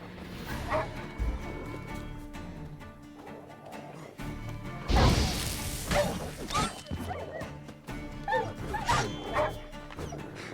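Dogs barking and yelping while being fought in the video game Witcher 3, repeated barks and whimpers amid combat impacts and a loud crash, with game music and effects throughout.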